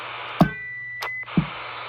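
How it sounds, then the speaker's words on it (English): A CB radio on a 390 Wagon Master unit sends short roger beeps with a brief electronic tone between keying clicks, faint and close, with no talk. "Let's make sure this Roger Beep is acceptable"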